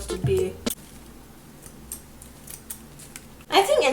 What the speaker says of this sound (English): Should I try the layering scissors?